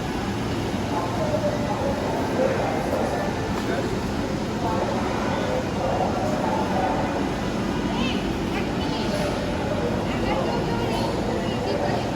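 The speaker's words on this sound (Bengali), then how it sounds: "এখন আমরা মেট্রো রেলের জন্য ওয়েট করতেছি, দাঁড়িয়ে আছি কখন আসবে মেট্রো রেল" A metro rail platform holds steady, dense rumbling noise and crowd murmur while people stand waiting for a train, with talking throughout.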